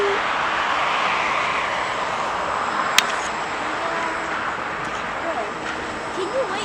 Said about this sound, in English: CRJ 200's landing. CRJ 200, United.